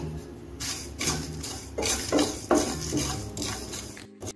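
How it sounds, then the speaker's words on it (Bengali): A spatula scrapes and knocks against a non-stick pan in repeated strokes while spices stir and faintly sizzle close by. "এখন আমি ভাজা মশলাটা তৈরি করার জন্য সবগুলো উপকরণ দিয়ে দিচ্ছি, দিয়ে এখন আমি একটু ভেজে নেব"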